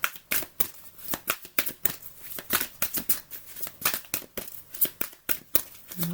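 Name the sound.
shuffling oracle cards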